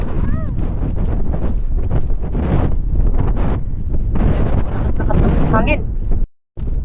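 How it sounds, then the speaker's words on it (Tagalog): Strong wind in Greenland roars and buffets the microphone continuously, with brief faint voices underneath and a sudden cutout near the end. "Hangin."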